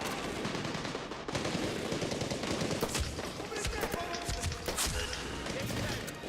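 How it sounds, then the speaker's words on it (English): Rapid pistol shots crack through a Medal of Honor Warfighter firefight, a dense run of sharp reports with several louder bursts, heard faintly in the mix with some game noise around them. "These pistols are pretty good in this game."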